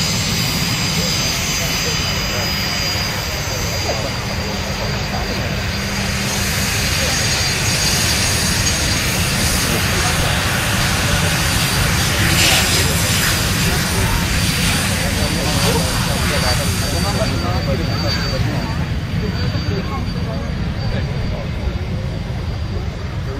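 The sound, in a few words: airplanes flying at an air show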